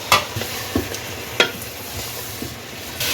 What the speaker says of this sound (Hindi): वो इसमें डाल दें और इसको भी फ्राई कर लें